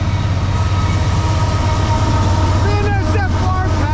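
Norfolk Southern freight train 29G with foreign-road locomotives including BNSF and Union Pacific units rumbles past close by, heavy low diesel throb with clattering cars and a brief high horn-like squeal near the end.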